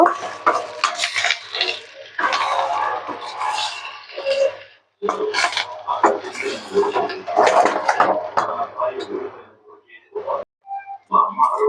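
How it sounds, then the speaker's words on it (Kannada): Fish egg bhurji is stirred in a pan over a slow flame, with metal spatula scrapes and clatter against the pan heard intermittently beneath a person talking throughout. "ಸೇರಿಸ್ಕೊಂಡು ಸ್ಲೋ ಫ್ಲೇಮಲ್ಲಿ ಎಲ್ಲ ಚೆನ್ನಾಗಿ ಮಿಕ್ಸ್ ಮಾಡ್ಕೊಂಡು ಬಿಡಬೇಕು"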